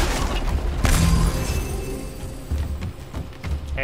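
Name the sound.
boulder shattering in God of War video game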